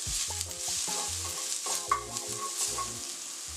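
Garlic cloves frying in a teaspoon of oil in a pan, a steady close sizzle with stirring scrapes and small clinks running throughout, no voices.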